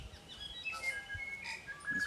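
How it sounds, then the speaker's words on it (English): Small birds chirp outdoors in short, high, scattered tweets, faint and somewhat distant over a quiet background. "if the birds would just be quiet for one moment"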